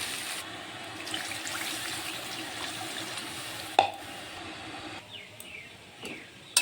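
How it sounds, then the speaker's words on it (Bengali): Water poured into a pan of fried spices and sour yogurt for a Bengali jackfruit and prawn curry, a steady running wash that cuts off abruptly near the end, followed by a few small clinks. "মশলাগুলো ভাজা হয়ে গেছে, এখন আমি জল দিয়ে দেব"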